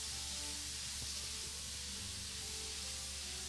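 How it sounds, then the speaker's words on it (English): Bacon sizzles while cooking in the video game Final Fantasy XIV, a steady, faint hiss that continues evenly throughout with no talking. "Kinda getting hungry hearing that."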